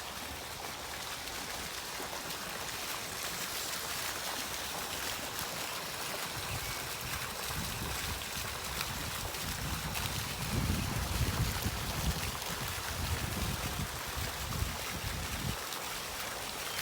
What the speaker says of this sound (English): make sure you come over this side and have a look at this lovely water feature